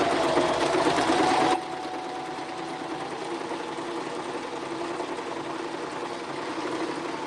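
A sewing machine straight stitching junk journal pages, a fast steady mechanical whir that runs loudly for a moment and then continues more softly, close by.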